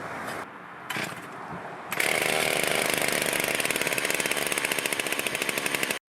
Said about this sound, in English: This Husqvarna doesn't get run every day, so it's kind of hard to start.